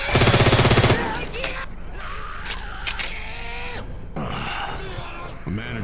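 Gunfire in the zombie shooter Left 4 Dead 2, opening with a loud rapid automatic burst, followed by scattered shots, grunts and vocal sounds amid the chaotic game noise.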